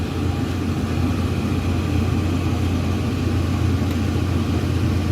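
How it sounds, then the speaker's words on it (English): A Gentleman Janitor GJ 5 coal stoker under test firing gives a steady, loud, close rumbling blower roar with a windy rush, unbroken and constant throughout. "Try to keep the microphone away from the wind that's coming out of this thing."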